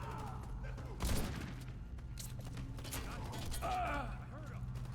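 Mechanical clicks and clacks of a ZX84 submachine gun being reloaded in the shooter game Warface, set against continuous game noise, distant gunfire bursts and someone talking over it.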